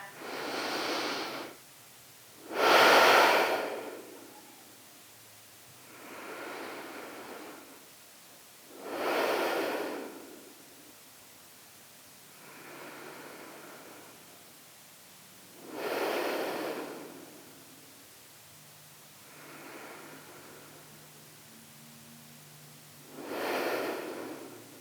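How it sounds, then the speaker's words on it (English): Deep breaths during postnatal yoga, slow rounds of inhales and exhales spaced several seconds apart, close and soft with quiet pauses between each breath. "we just want to take about 6-7 rounds of deep breaths"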